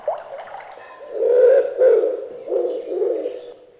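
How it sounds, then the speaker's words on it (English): A recorded wood pigeon call plays from a button on a sensory blanket, giving soft, low cooing phrases repeated several times, clear and close with no voices over it. "Wood pigeon,"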